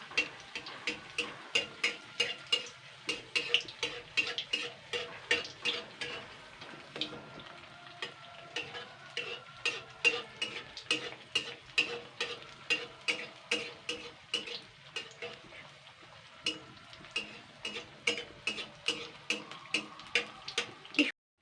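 Pumpkin pakoras frying in hot oil while being stirred, a steady sizzle punctuated by regular sharp ticking clicks of the utensil, close and fairly quiet, with no talking.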